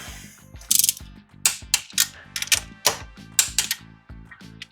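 Small torque wrench tightening head bolts on a Volvo B230 redblock engine: a close series of sharp ratcheting clicks in quick bursts with brief pauses, loud and mechanical, no voices.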